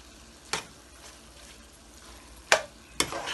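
Melon seeds (char magaz) fry in ghee for carrot halwa under a soft, low sizzle, broken by three sharp scrapes or clinks of a spoon against the pan.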